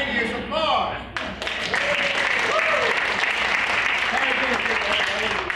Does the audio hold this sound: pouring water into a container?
no